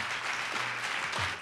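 Brief audience applause after a score is announced at a European slam poetry championship, a dense patter of clapping with a faint voice murmuring beneath it.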